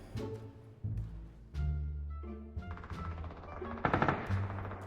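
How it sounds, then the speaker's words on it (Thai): Gunfire in the PUBG video game, with rapid automatic bursts and single shots layered over droning in-game sound, steady and fairly loud throughout. "ยิงกันลืมเลยทีนี้"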